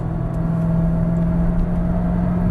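C7 Corvette Stingray engine pulling under throttle, a loud steady drone with strong low harmonics, recorded close from inside the car, no voices.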